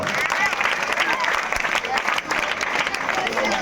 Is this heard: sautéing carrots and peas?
no